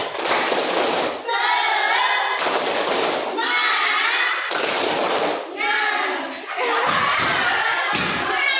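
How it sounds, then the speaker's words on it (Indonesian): Schoolchildren in a classroom perform the 'tepuk semangat' spirit clap: loud, dense bursts of rhythmic clapping in repeated groups, each followed by energetic shouted chanting from the whole class. "Ayo. 1, 2, 3. Tepuk semangat."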